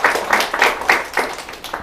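A crowd of high-school students claps in unison at a quiz prize-giving, giving a short run of rhythmic, moderately loud beats at a steady pace.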